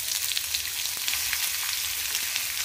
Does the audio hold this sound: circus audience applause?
no